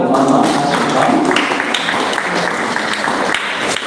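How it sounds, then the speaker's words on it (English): Clapping from an audience at a live church-hosted campaign event against human trafficking, giving thanks to Mama Rose; broad steady applause that fills the whole moment, with faint voices mixed in. "Let's clap for Mama"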